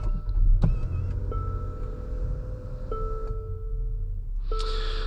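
A 2024 Infiniti QX60 Autograph rounding a corner, heard from inside the cabin as a steady low road and engine rumble with faint whirring tones and a brief soft thump near the start.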